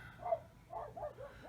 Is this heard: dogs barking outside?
yes